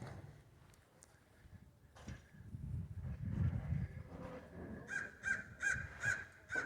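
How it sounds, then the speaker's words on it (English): Crows caw outdoors near a repainted 1999 Chevy Blazer, a few calls early and then a quick run of five or six harsh caws near the end, over low wind and rumble. "See, even the crows like it."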